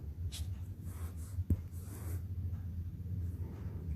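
Marker or chalk scratches out soft, faint strokes on a board in a quiet room while a gamete is written, with one sharp tap in the middle and a low steady hum underneath.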